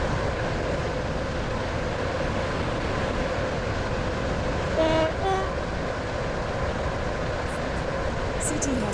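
Metro train in the game Stepford County Railway running toward a station, with a constant loud rumble and a couple of short horn toots in the middle; a voice speaks over it.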